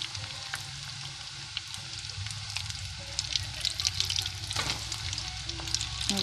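Rice balls frying one by one in hot, spattering oil give a continuous crackling sizzle with sharper pops, close and fairly quiet, with no talking.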